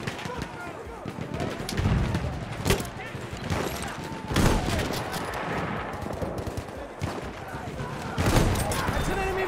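Enemy machine gun fire in a World War I shooter on the Achi Baba map, with repeated bursts and sharp reports spread across the clip over a dense battle din, while players talk throughout.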